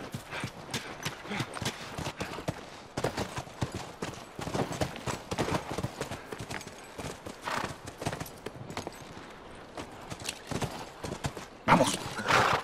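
Horse hooves in The Last of Us video game, a rapid clip-clop of steady footfalls that runs throughout, with a louder burst near the end, close and without talking.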